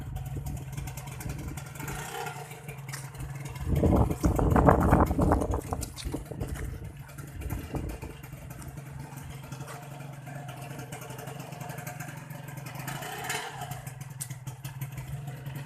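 A red 2000 Honda LS125 motorcycle engine runs with a steady low drone, swelling briefly as it revs for a moment before settling back to an even idle-like hum.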